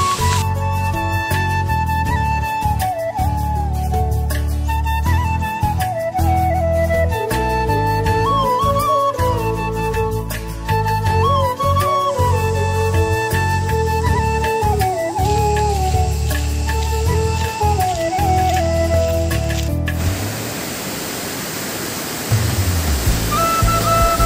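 Melodic music plays for a long stretch, then cuts to the steady, rushing roar of a nearby hidden waterfall in West Karbi Anglong, Assam.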